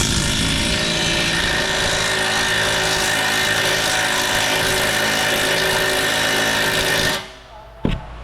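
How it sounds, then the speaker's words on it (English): A small impact wrench spins out brake bolts during a brake service, a loud continuous close-up whirring rattle for about seven seconds before cutting off, followed by a brief clank. "grab my little impact and just go to work"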